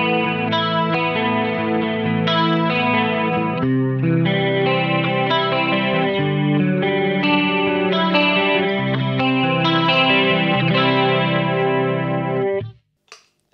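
Electric guitar played through a compressor and a Dimension C chorus pedal, sustained chords and arpeggiated notes with a shimmering, wide chorus, steady and loud, ending with a brief click.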